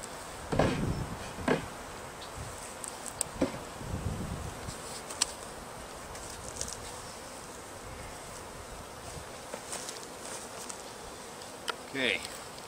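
Faint honey bee buzzing drifts in and out over a quiet outdoor background during installation of a package of bees into a Warre hive, with a few soft knocks and handling sounds.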